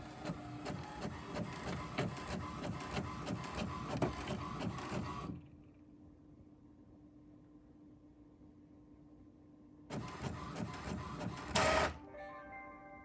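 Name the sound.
printer printing sticker paper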